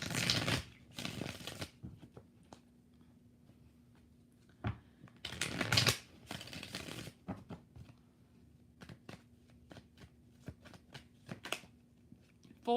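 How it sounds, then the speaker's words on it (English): Tarot cards shuffled in bursts during a live reading, riffling flurries separated by quieter gaps with scattered light card taps and clicks, fairly close and moderately quiet, with no talk. "Two more shuffles for Medina Mills."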